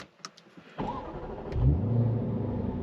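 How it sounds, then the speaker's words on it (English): A Jaguar XE SV Project 8 sports sedan engine cranks and catches, then settles into a deep, throaty idle rumble, close by. "Nice throaty startup"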